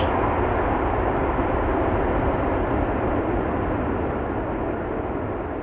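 Thrust reversers roar on a landing airliner at Amsterdam Schiphol, a loud, dense, steady jet rumble filling the whole clip with no break and no voices.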